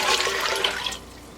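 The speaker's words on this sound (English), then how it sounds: "Now we need to add 6 cups of white vinegar." White vinegar poured into a pot of water for dill pickle brine, a close, steady gushing pour that tapers off and stops after about a second.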